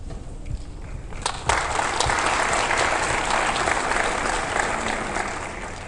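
Hearty applause from a conference audience at a Vasculitis Foundation morning medical session, a dense steady clapping that swells after a sharp start and holds loud throughout, easing slightly toward the end.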